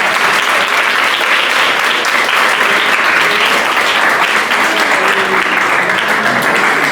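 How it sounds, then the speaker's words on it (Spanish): A studio audience gives a guest a strong round of applause, with dense, loud, sustained clapping that stays even throughout. "un fuerte aplauso para nuestra invitada"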